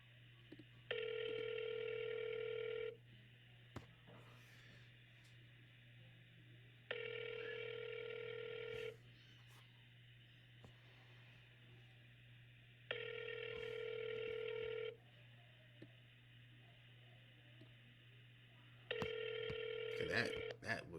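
A telephone rings out during a cold call, four evenly spaced electronic ring bursts about two seconds each with quiet gaps between, over a steady low hum, with no voice heard.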